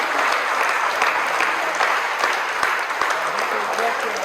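A church congregation applauds the King in a steady, dense wash of clapping that carries on evenly for several seconds, with sharper individual claps now and then.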